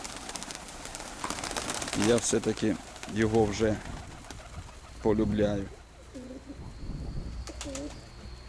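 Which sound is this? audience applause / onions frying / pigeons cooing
pigeons cooing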